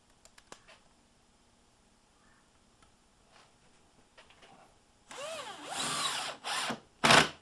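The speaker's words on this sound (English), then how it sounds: "Get my screws in here. And I'm going to use my" Power drill driving screws with a star bit into pocket holes in wood, starting after quiet handling noises with a few sustained whirring bursts, the last one short and loud, close up.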